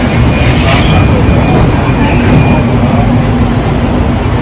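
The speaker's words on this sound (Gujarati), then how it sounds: "મેટ્રોમાં બેસી ગયા છીએ." Inside a moving Ahmedabad metro train, a loud, steady low rumble and roar fills the carriage throughout, with faint higher whines riding on top.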